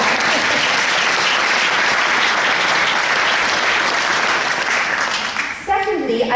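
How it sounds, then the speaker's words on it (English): An audience claps loudly and steadily in a hall, a dense continuous wash of applause that fades near the end as a voice begins speaking. "we should clap for that"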